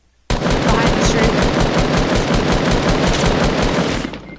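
Sustained automatic gunfire from the Fortnite video game, a dense unbroken burst that starts abruptly and runs loud and close for about four seconds before cutting off.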